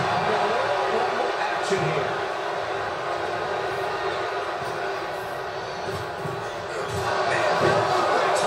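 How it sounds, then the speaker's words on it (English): A virtual arena crowd in WWE 2K24's Royal Rumble roars in a sustained, dense wash of cheering that swells near the end, with commentary voices over it. "Listen to this crowd."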